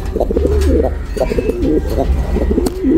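A yellow tiger grizzle pigeon coos close by in three or four repeated rolling phrases, with a low background hum underneath.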